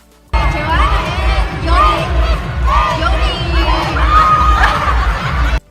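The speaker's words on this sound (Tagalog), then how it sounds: "maririnig na sumisigaw ang mga fans ng third day" A large crowd of fans at a concert shouts and chants in loud repeated waves, voices overlapping continuously throughout.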